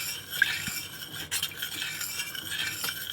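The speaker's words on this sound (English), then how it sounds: "So we're gonna add a little bit of oil. Then we're gonna stir it. Stir it really good." A utensil stirring oil into a homemade grind wax mixture in a pot, scraping and clinking steadily at close range in a quiet room.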